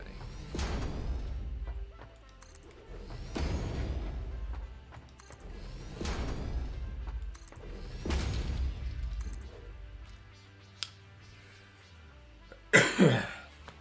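Person coughing in the Satisfactory game, four heavy spaced coughs about every two and a half seconds, close and loud, followed by a brief sharp burst of noise near the end.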